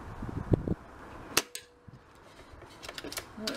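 A Brocock Concept air rifle fired outdoors on a 200 bar fill, giving a sharp close crack followed by a few faint clicks and handling noises, with wind in the background.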